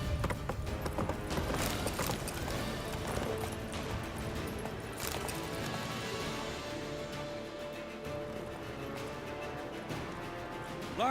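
Roach, Geralt's horse in The Witcher 3 video game, galloping with steady rhythmic hoofbeats under a busy battle soundscape of clatter and distant noise, moderately loud throughout.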